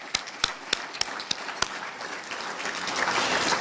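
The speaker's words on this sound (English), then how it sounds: "How about we give them a round of applause?" Applause from a banquet audience for a 1995-96 championship men's hockey team and their families, opening with a handful of sharp, separate claps that swell into steady, dense clapping growing louder toward the end.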